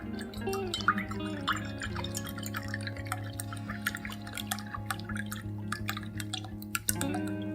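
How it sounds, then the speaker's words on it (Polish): Cream poured into a measuring jug, a quiet, close liquid pour with dripping and gurgling over a steady low hum, briefly interrupted near the end, no speech. "I wlewamy śmietankę 30 250 ml."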